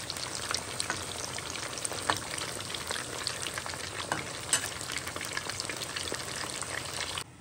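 Katla fish pieces fry in oil in a pan with a continuous crackling sizzle, steady and fairly close, broken by occasional pops and stirring scrapes.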